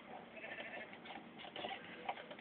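Sheep bleating in the video game Minecraft, a soft, continuous layered bleat lasting a couple of seconds, fairly quiet and heard alone without speech.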